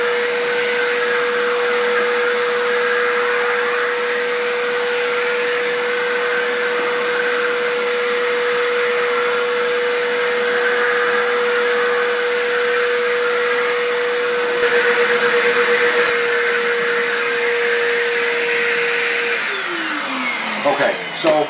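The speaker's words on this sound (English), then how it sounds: "so I vacuumed it out" Vacuum cleaner drawing dust out of a central air conditioning unit, a loud steady whine with a constant motor tone that holds for about twenty seconds before the pitch drops as it winds down.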